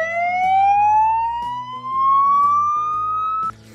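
A wailing ambulance-type siren from a converted ambulance camper van, a VW Crafter, rising steadily in pitch in a long sweep. It is loud and close and sounds alone with no speech, then cuts off abruptly near the end.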